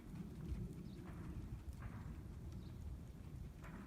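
Steady clip-clop of a ridden horse's hooves in a riding arena during flying lead change schooling, continuous rhythmic footfalls over a constant low rumble, no talking.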